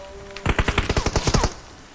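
A single quick burst of about a dozen rapid gunshots in a shooting video game, loud and close, lasting about a second before fading out.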